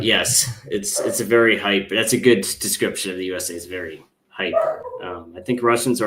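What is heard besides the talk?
No everyday noises stand out.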